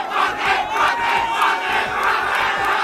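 ODM political supporters cheer and shout in a dense, close crowd, their massed yells rising in rhythmic surges of chant-like cries about twice a second.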